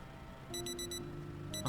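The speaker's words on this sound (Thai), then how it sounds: "นาฬิกาปลุกพอดีเลยตกใจหมดเลย" An alarm clock rings in the zombie survival game Project Zomboid, a quiet rapid bell pattern in four short pulses over a steady tone, then starting again as a loud thump lands.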